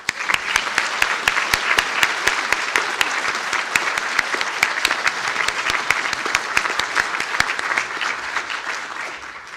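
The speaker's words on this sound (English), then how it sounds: "round of applause." A hall full of people applauds graduates standing at a university conferring ceremony, dense continuous clapping with crisp individual claps on top, loud and sustained before easing slightly at the close.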